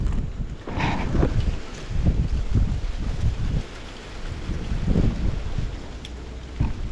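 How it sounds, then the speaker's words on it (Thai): Strong wind blowing outdoors at a rural cooking spot, gusting in rough surges with low buffeting rumble against the microphone, loud and continuous with no talk. "วันนี้ลมแรงครับ"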